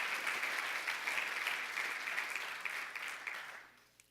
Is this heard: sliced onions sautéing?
no